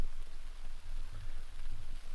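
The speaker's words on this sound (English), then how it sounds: "Quite like the sound of the rain on the fly sheet though" Steady rain drums on a tent fly sheet during a wet night of wild camping in the Scottish Highlands, forming a continuous close patter with a low rumble and no voices.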